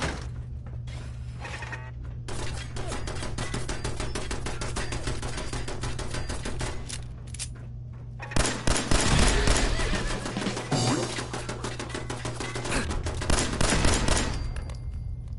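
Sustained automatic turret gunfire in the video game Fallout 4, loud, rapid and continuous, with brief pauses and heavier bursts midway over a low background hum.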